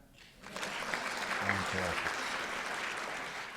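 Audience at a comedic inspirational talk claps hands, a moderate burst of applause swelling up after a short quiet start and continuing steadily, with a presenter's brief word heard over it.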